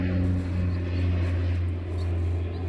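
Propeller airplanes droning overhead during EAA week near Oshkosh, a steady low engine hum hanging over a homestead garden without pause.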